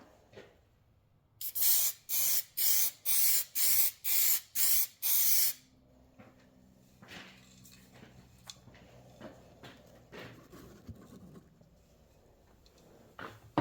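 Spray gun laying a second primer coat on a repaired carbon fiber car hood: eight short, loud hissing bursts in steady rhythm, close by, followed by quieter handling clatter and faint background noise.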